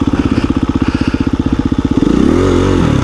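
A KTM 350 EXC-F dirt bike on a trail chugs loudly up close with a fast, pulsing beat, then the engine revs up and drones in a wheelie attempt.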